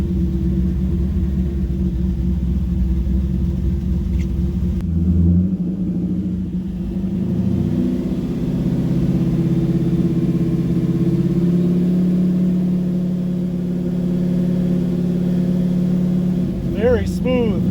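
A C5 Corvette engine rumbling at idle then revving up to about 2,000 RPM in neutral, a steady low close throb with a smooth rise and settle, with someone talking over it.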